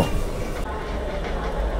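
A Dhaka Metro Rail train rumbles steadily with a low rolling drone and faint wheel clatter, heard close from the platform as passengers board.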